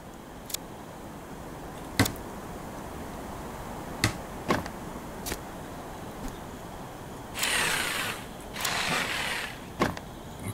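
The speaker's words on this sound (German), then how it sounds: "Hammer benutzen." A hammer used in the survival video game I am Future, a series of sharp separate knocks spaced irregularly over several seconds, with two longer scraping bursts near the end, moderately loud over a low ambient hiss.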